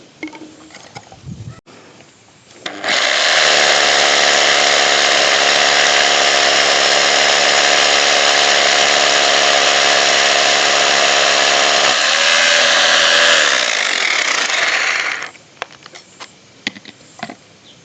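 A 26mm SDS rotary hammer drill fitted with a 12 mm, 450 mm long bit runs loud and steady for about twelve seconds, its pitch shifting partway through, then stops, with faint clatter before and after.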